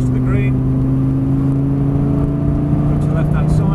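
Lamborghini on the Prestwold driving-experience track at full power, engine droning loud and steady with a sustained tone throughout, an instructor's voice talking over it.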